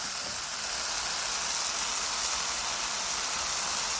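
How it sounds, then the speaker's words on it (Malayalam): Chili powder and spice powders sautéing in a pan for a sardine dish, giving a steady, even sizzling hiss that stays close and constant throughout with no talk. "പൊടികളെല്ലാം നമ്മൾ ഇതിൽ തന്നെയാണ് വഴറ്റുന്നത്."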